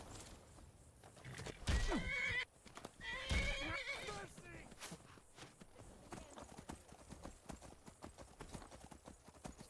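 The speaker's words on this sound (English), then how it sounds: "my horse is now beating the shit out of them" The horse Shadowmere whinnies and neighs loudly twice in Skyrim, mixed with pounding hooves and scuffling combat in the game, while a player speaks over the action.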